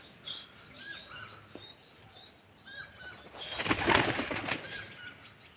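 Pigeons burst into flight with a close, loud flurry of flapping wings, preceded by faint chirps and soft shuffling, the wingbeats clustering in a dense burst near the end.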